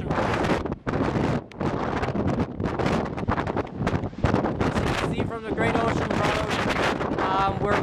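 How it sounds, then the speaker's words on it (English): Strong wind off the ocean on Australia's southern coast buffets the microphone with heavy, gusting low roar throughout, and a person speaks under it toward the end. "we're by the ocean and down south of Australia, and it's extremely windy"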